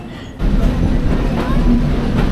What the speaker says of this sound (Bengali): প্রতিদিন চারবার এই ট্রেন আসা যাওয়া করে